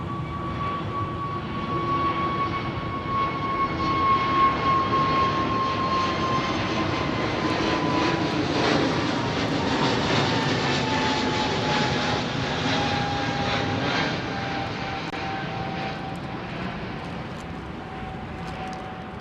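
A DHL Boeing 757 departs runway 09R at London Heathrow, its jet engines a sustained, loud roar that swells toward the middle and then slowly eases.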